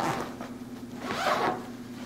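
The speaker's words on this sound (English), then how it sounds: "all I have to do is have all my stuff inside, zip it up" A zipper drawn along a luggage insert being closed inside a suitcase, a close, continuous rasping zip lasting about two seconds with a steady low hum beneath.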